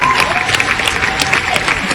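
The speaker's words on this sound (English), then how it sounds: "everybody who's a member of the Millionaires Club is now going to cheer for themselves" Members of the Millionaires Club, a stage group, cheer for themselves: a steady wash of applause and crowd noise with scattered whoops, filling the whole short stretch at close, even loudness.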